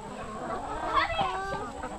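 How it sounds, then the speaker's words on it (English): Chickens clucking at a backyard coop near Chatuge Lake on a late-summer weekend, several overlapping short calls close by, with people talking in the background. "Chicken!"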